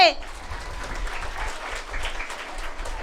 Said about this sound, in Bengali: স্যারের জন্য জোরে একটা তালি হবে